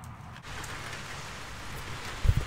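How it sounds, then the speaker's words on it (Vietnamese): Rain falls steadily in a home garden where rose bushes have just been planted: a close, even hiss of drops with a couple of heavier thumps near the end, and no voices. "mình vừa trồng xong ba cái cây hoa hồng của mình là trời nó mưa luôn"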